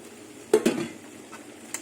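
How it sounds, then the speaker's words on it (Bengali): Fried potato and jackfruit pieces tipped into a pan of sautéed spices make a short burst of clattering thuds and spoon knocks, then fade to a quiet sizzle, with no voice. "আলু আর এঁচড় ভাজাটা দিয়ে দেবো"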